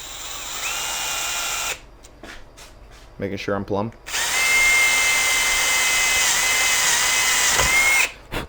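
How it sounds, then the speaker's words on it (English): A power drill whines as it bores plumb holes into a wooden guitar neck with a slightly oversized bit in two long runs, with a brief spoken remark in the pause between them. "we're just going to come here and just drill them nice and plumb"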